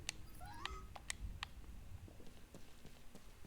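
A cat in the video game One Lonely Outpost gives a few short, quiet meows early on, over a dense low background of game ambience.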